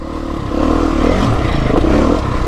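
A Beta 350 dirt motorcycle engine held at high RPM, a loud, steady buzzing drone with slight pitch wobbles and some mechanical clatter, close and continuous with no talking.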